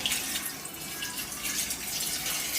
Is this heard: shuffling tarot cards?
no